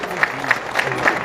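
A rally crowd at a farmers' panchayat gathering begins applauding, with a few evenly spaced claps in a slow rhythm over a murmur of voices.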